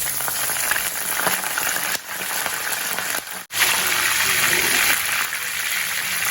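Curry leaves hit hot oil for a tempering while gongura pickle is being made, giving a loud, broad, steady sizzle and hiss with a couple of brief dips in intensity.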